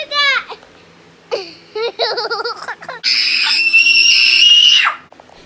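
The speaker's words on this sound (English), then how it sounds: "her scream is also very shrill and loud" A young girl, about three years old, lets out a loud, shrill scream near the mic, with bursts of giggling and laughter just before it.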